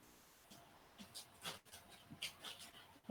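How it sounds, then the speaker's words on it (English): Dogs pant and whimper indoors in faint, irregular bursts of breathy huffs and small whines, quiet and close, with some low background noise. "My dogs are going bananas."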